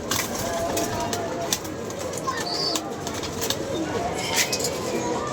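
Kept pigeons coo softly against a constant, noisy outdoor background hiss, the low calls fairly faint and intermittent.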